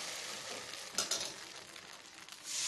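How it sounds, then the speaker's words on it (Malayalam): Appam batter is ladled into a hot pan and gives a soft, steady sizzle, with a brief louder burst near the start as the batter hits the metal. "ഒരു തവി നിറച്ച് മാവെടുത്ത് ഒഴിച്ചു കൊടുക്കുക."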